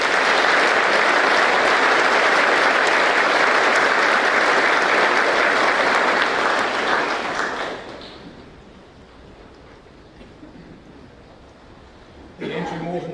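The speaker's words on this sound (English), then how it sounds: "so we can applaud each young man as he crosses the stage" An audience at a school junior prizegiving claps steadily and loudly for an award winner crossing the stage, the applause fading out after about eight seconds into quiet room tone, with a brief voice near the end.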